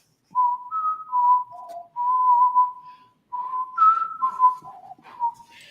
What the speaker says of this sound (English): just whistling away a particular melody, actually, which was a clock chime